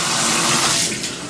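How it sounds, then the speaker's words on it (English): A hotel bathroom faucet with strong water pressure runs loudly in a steady, full hiss of pouring water that eases off slightly near the end. "that's some nice water pressure"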